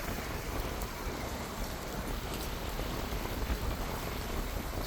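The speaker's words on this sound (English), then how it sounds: "full on raining." Heavy rain pours on the Sunshine Coast in a dense, steady hiss of drops that stays broad and unbroken, with no voices.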